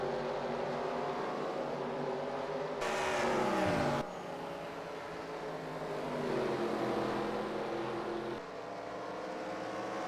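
Race car engines in the NASCAR Racing 2003 game at Richmond Raceway drone continuously, with one car sweeping past mid-clip in a loud rising-then-falling whine before the steady engine hum resumes.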